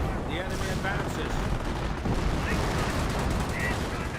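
An artillery barrage in Company of Heroes rumbles steadily under a battle scene, with a dense bed of distant blasts and gunfire and faint voices now and then.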